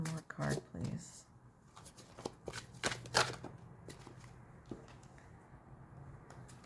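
Tarot cards riffle and slap together in quick bursts of crisp, close shuffling, spaced with short pauses and softer handling, while a voice speaks intermittently.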